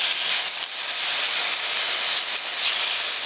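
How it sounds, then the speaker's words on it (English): Chicken sizzles in a pan on a camping stove powered off-grid, a steady close hiss of frying with no break and no voices. "Just adding the chicken. You can hear it sizzling away."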